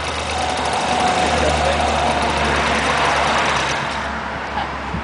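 A new scooter's engine running on its first ride, a steady loud droning hum with wind rush, continuous and close throughout, fading slightly near the end.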